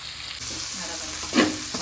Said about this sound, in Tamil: முட்டைக்கோஸ் நல்லா வதங்கிருச்சு